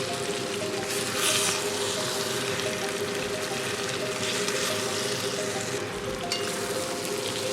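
Fried small potatoes tipped into spiced masala in a pan and stirred for aloo dum, a steady close sizzle with a couple of brief louder scraping swells.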